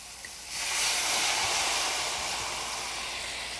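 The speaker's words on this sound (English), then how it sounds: "So I'm going to go ahead and add my wine." White wine hits a hot pan of fragrant garlic with a sudden loud burst of hiss that holds strong and then eases slightly as it keeps sizzling.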